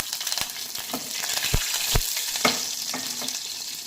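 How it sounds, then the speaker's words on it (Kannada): Mustard seeds and green chillies sizzle loudly in hot oil for a radish stir-fry, a dense continuous frying hiss broken by several sharp pops and spatters, close up with no talk. "ಈಗ ಆಯಿಲ್ ಹೀಟಾಗಿದೆ ಈಗ ಸಾಸಿವೆ ಹಸಿಮೆಣಸಿನ್ಕಾಯಿ"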